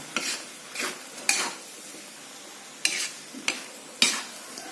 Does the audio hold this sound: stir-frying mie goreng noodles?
yes